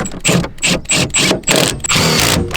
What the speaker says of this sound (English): You just tighten these 4 Torx bits down.